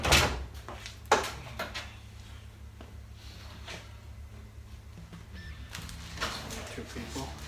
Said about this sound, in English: You'll want to open the door, Joe.